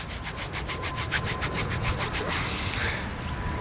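A 1917 Commonwealth of Australia halfpenny, dug up while metal detecting in a Sydney park, is rubbed briskly by hand, giving a fast, rhythmic scratchy scrubbing that is close and steady, then eases off.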